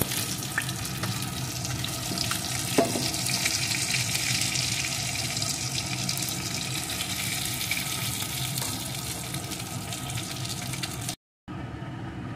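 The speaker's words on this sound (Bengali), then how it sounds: "মাছগুলো এপিট ওপিট করে লাল লাল করে ভেজে নেওয়া হয়ে গেছে। এখন আমি একটি পাত্রে নামিয়ে নেব।" Pieces of rohu fish fried red in hot oil sizzle and crackle steadily in the pan for the whole stretch, with a brief cut to near silence near the end.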